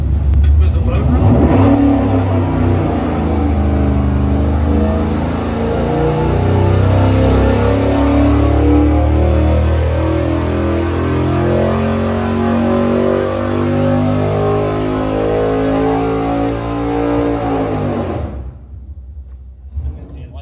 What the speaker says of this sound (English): here's what often happens when we're dyno testing. This crate motor, the LS7 based crate motor from GM, ran flawlessly